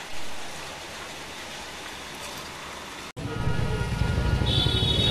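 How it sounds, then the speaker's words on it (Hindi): Heavy rain hisses steadily outdoors during a hot, sunny spell. After a sudden cut, the downpour returns closer and louder, as a dense wash of noise with no voices. "और बारिश भी हो रही तेज़।"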